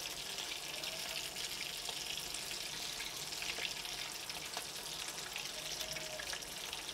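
Chicken and potato cutlets frying in a pan: a continuous soft sizzle with scattered faint crackles and pops, fairly quiet and steady, no voices.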